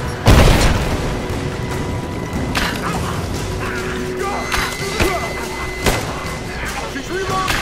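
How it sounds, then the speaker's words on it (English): Gunfire and explosive booms ring out in a combat ambush in the video game Rise of the Tomb Raider, with a heavy blast early on and sharper shots scattered through, under shouted voices and a dense background of battle noise. "Open fire!"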